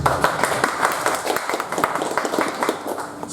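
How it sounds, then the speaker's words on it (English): A small audience at a software community day in Paris gives scattered, uneven applause, individual claps standing out close by in a short burst. "people give him an applause"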